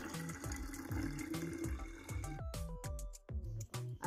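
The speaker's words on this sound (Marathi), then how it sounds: "आता मी ते बाटलीत ओतत आहे." Strained rainwater pours into a bottle, a close gurgling stream with rhythmic glugs and rising tones as the bottle fills, then a few brief splashes and pauses near the end.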